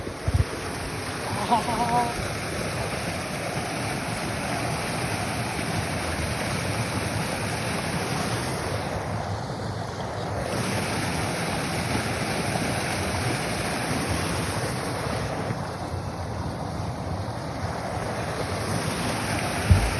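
A constant roar of water gushing from a breached canal fills the clip, steady and loud, like a torrent pouring out nearby with no voices.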